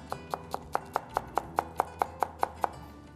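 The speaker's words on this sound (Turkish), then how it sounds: "yeşil soğanımızı doğrayalım." Green onions are chopped with a knife on a board in about a dozen crisp, evenly spaced cuts, close and clear, with no talking.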